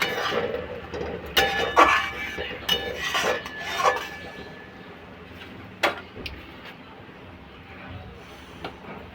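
A pan of olive chutney lifted off a gas stove: sharp metallic clinks and scrapes of cookware and utensils, several clustered knocks early, then sparser clicks fading over a quiet background hiss.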